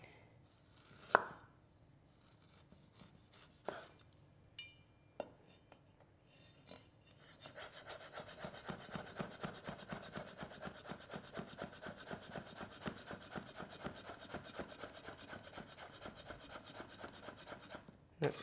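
A knife slicing peeled ginger into long matchsticks on a board: a few isolated taps at first, then a fast, even run of close, crisp cuts that continues steadily to the end, with no talking.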